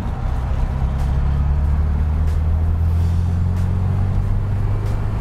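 A 1971 Volkswagen Super Beetle with no plate, which sat from 2009, drives onto a highway. Its engine and road noise make a steady, loud, low drone that holds even throughout.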